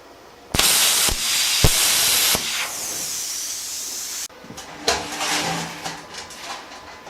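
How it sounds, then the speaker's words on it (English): A plasma cutter blasting through a metal frame, a loud, harsh, steady hissing roar lasting a couple of seconds with sharp cracks, then rougher, uneven crackling and hiss as cutting continues. "I can literally just pop the plasma in the middle and just blast it out."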